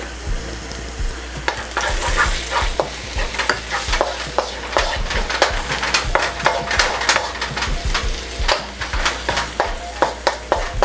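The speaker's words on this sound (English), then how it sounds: "Saute these for about 3 to 4 minutes" Onions and spices such as cumin and turmeric sauté for a pork masala curry, a steady close sizzle and frying hiss broken by frequent scraping stirs of a spoon against the pan, with no talking.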